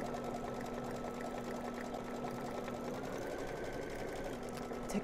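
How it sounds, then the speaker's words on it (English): An embroidery machine runs continuously, sewing a triple reinforcing stitch on an in-the-hoop dog softie, its rapid needle whir steady and close throughout. "It is doing it in a triple reinforcing stitch"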